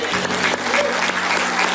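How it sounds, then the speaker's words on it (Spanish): A church congregation applauds together at a Spanish-language evangelical service, steady dense clapping filling the whole moment with a faint voice underneath. "Damos un aplauso al Señor"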